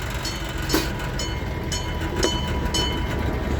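The Timber Heritage Association speeder rail car rolls along the track toward Samoa, with a steady loud engine and wheel rumble and regular rhythmic clicks from the rail joints, heard close up.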